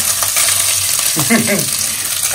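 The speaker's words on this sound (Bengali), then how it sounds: "ভাত ভাজা হচ্ছে এবার।" Rice stir-fried in a wok, a loud close sizzle running throughout, with a short burst of voice partway through.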